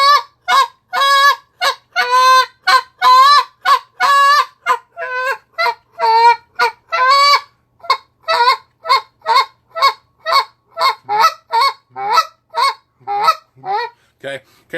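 A handheld goose call blown by a caller imitates Canada goose moans and honks: a long run of rhythmic, nasal honks that first come in rapid, clustered bursts, then settle into evenly spaced, shorter notes, loud and close, with no talking.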